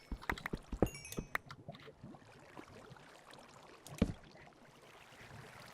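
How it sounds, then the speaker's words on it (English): Faint flowing water in a Minecraft cave, a soft liquid gurgle and trickle with occasional small splashes and clicks scattered over a low, steady wash, heard alone and quietly. "I hear water."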